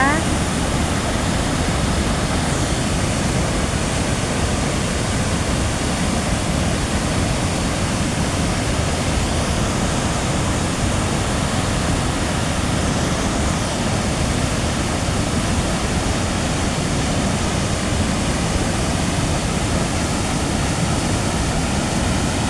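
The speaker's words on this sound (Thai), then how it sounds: "ฟังเสียงของน้ำตกนะน่ากลัวมากๆเลยค่ะพี่น้อง" Water pours over a rubber dam weir at the downstream end, a loud, unbroken roaring rush like a waterfall that fills the whole scene evenly for over twenty seconds.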